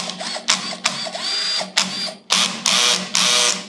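Black and Decker cordless battery drill whirring in short repeated bursts while struggling to back screws out of holes, several stop-start revs close up with no talking.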